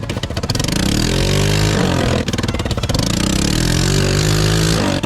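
A loud, raspy Honda four-wheeler engine revs up and down close by, its broken-off exhaust blatting and crackling with rapid pulses throughout.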